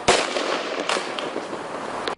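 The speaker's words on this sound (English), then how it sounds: "Police say that shot was fired by Officer Wakana Okuma" A single sharp gunshot fired by a police officer during a confrontation in San Jose, loud and close, bursting out at the start and followed by a couple of fainter impacts or echoes over a noisy outdoor background.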